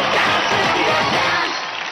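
An audience applauds and cheers on the stage of the dance competition Dance India Dance Season 4. The clapping is dense and steady, crowd noise stays loud throughout, and a voice is faintly mixed in.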